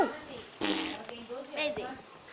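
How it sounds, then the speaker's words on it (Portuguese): A child fart, heard in short bursts amid a child's excited chatter and squeals at close range. "Vou peidar."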